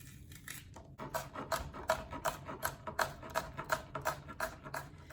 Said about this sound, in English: Take a spoon to gut it.